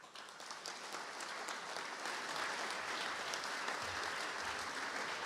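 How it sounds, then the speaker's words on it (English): Hall of Fame induction crowd at the St. Louis Sports Hall of Fame applauding Ken Schrader, a broad, sustained wash of clapping that swells and holds at a moderate distance. "Please welcome to the St. Louis Sports Hall of Fame with your applause"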